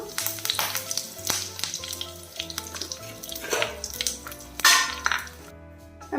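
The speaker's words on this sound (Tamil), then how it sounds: "கடுகு பொரியுது இது கூட வந்து கொஞ்சம் கருவேப்பிலை சேர்த்துடலாம்" Mustard seeds and curry leaves fry in hot oil with a busy crackle and sizzle, the spattering popping and surging in bursts, up close and with no voices.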